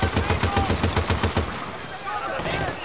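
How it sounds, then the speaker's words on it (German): A mounted machine gun in Battlefield Bad Company 2 fires a rapid, loud burst of evenly spaced shots for over a second. Rumbling battle noise follows once it stops, and a voice speaks over the scene. "Okay, das ist ein MG."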